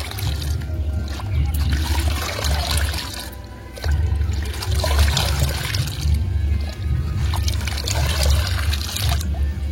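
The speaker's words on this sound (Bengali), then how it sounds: "এবার সম্পূর্ণ মিশ্রণটি কিন্তু ভালোভাবে মিশিয়ে নিতে হবে।" Fermented mustard or peanut oil cake fertilizer being stirred into water, a continuous sloshing and splashing swirl close by with a brief lull midway, no speech heard.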